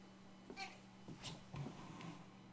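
Mia the cat gives a few soft, faint meows in quick succession at close range, quiet and separated by short pauses.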